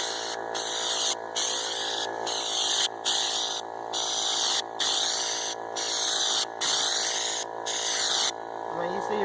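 Raptor bed liner sprayed in a couple of quick, fairly thick passes over a truck bed: steady hissing bursts, about nine of them with brief gaps, loud and close, with a voice speaking over them.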